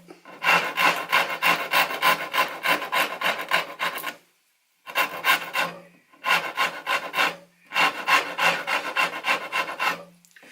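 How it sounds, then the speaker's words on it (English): A coarse rasp files yew bow wood in long, rhythmic, scratchy strokes, several loud bursts separated by brief pauses, with no talking. "Nice coarse rasp, this one."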